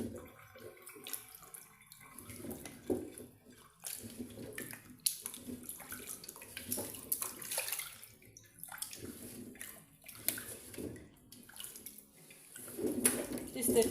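Cassava is washed by hand in water to clear away dirt and sand, with continuous sloshing and splashing and some irregular louder swirls throughout, close and moderately quiet.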